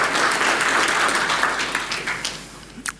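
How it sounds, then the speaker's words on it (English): Audience applause at a tech conference talk, a dense wash of clapping that is loud at first and gradually thins and fades over about three seconds, ending with a few scattered claps. "Round of applause."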